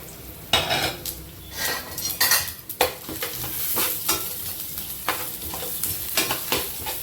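Coriander seeds, cumin and black pepper roasting in oil in a pan for a Chettinad mutton gravy, with a steady close sizzle broken by repeated loud scrapes and clinks of a spoon stirring against the metal pan.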